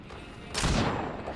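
A single booming gunshot from the Deathslinger's gun in the video game Dead by Daylight bursts loud and close, then trails off in a noisy decay.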